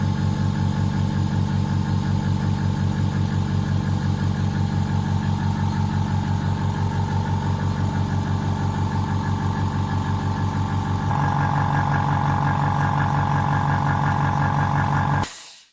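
A Vevor compact portable air compressor runs steadily close by, a loud droning motor hum with a fast rhythmic pulse, its tone shifting slightly near the end before it cuts off abruptly.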